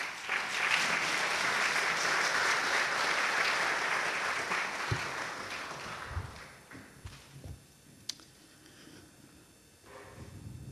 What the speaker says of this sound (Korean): 우리 목사님 나오실 때 큰 박수로 맞아주시기 바랍니다